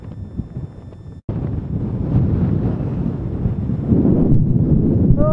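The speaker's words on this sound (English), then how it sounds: "Oh, it's terrific wind." Strong wind buffets a fell summit in the Lake District near Whinlatter, a loud continuous roaring rush across the microphone that builds in gusts and never lets up.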